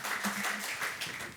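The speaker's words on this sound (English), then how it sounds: "please give a huge round of applause and welcome our speakers and our moderator, Dr. Paroma Bhattacharya." An audience at a forum on the global economy applauds to welcome the speakers and moderator, heard as a brief burst of steady clapping.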